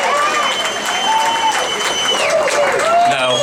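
Crowd at a Louisiana Music Hall of Fame induction applauds and cheers the inductee, a loud, continuous roar of clapping with whistles and shouting voices mixed throughout.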